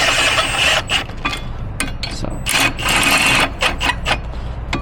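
An impact wrench on a medium setting drives brake caliper bolts on a 2007–2025 Mercedes Sprinter van, sounding as several short, loud bursts of rapid rattling hammering separated by brief pauses, with no talking.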